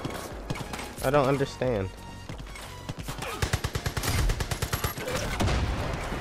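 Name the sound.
gunfire in the video game Far Cry arcade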